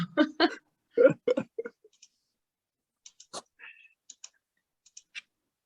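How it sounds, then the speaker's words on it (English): A pet taps on a computer keyboard, making sparse, light clicks spread over a few seconds. The clicks come right after a short burst of nearby talking. "She like tap all over the keyboard and stuff."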